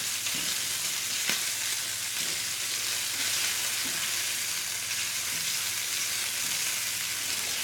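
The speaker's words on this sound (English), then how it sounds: "you see they're going in our oil there. We're going to get some nice browning going on here" Italian sausages browning in oil in a high-end non-stick skillet, a dense, even frying sizzle throughout with a couple of faint clicks.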